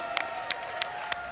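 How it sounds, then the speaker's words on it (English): Crowd at a startup pitch event during the Collision 2022 conference, a steady wash of applause and cheering with a few sharper claps standing out at regular intervals. "Round of applause, Modu!"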